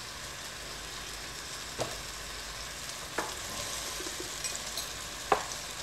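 Chopped onion and garlic frying in oil for chekhchoukha give a steady moderate sizzle, broken by a few sharp stirring taps and clinks, with no one talking.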